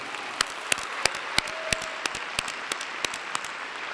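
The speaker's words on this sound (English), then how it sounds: "Would you please help me thank Dr. Jones with a loud round of applause for all that he has done" Scattered, sparse applause from a commencement audience thanking Dr. Jones, with individual claps standing out irregularly rather than merging into a full ovation; fairly quiet and distant, with a faint tone briefly audible.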